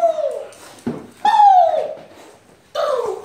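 A dog whimpers and whines in close, high-pitched cries, three drawn-out sounds separated by short pauses.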